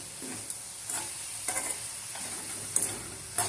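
Ridge gourd curry cooking in a pot with a little released water, a soft continuous low sizzle and bubbling broken by a few light stirring clinks.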